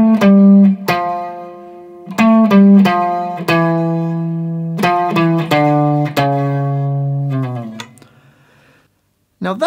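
Electric guitar picking the single-note riff line of a song, with distinct plucked notes and sustained held tones that end in a slide off, loud and close, then a brief silence.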